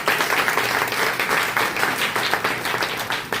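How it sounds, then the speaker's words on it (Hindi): A crowd applauds steadily, dense clapping from many hands filling the whole stretch at a loud, even level. "तो सब तालियों के एक बार स्वागत करेंगे।"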